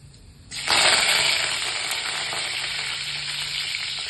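Mustard seeds and curry leaves hit hot oil, setting off a loud, sudden burst of sizzling and spluttering that settles into a steady, intense crackle, with no voices.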